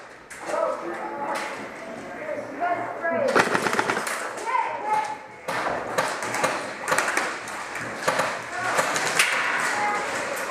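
Paintball guns firing in an indoor arena during a capture-the-flag game, rapid bursts of sharp pops mixed with thuds, while people shout and talk over the shooting.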